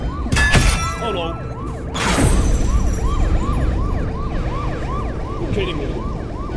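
A police siren in the video game Murky Waters wails in repeated rising-and-falling sweeps, fairly loud and steady, after two sharp crashing bursts near the start, with rumbling game noise underneath.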